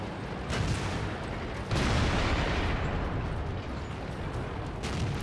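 Tank cannon fire in the World of Tanks video game, with a dense, roaring burst of explosion-like noise that swells at the start of the second second and rumbles on loudly without a break.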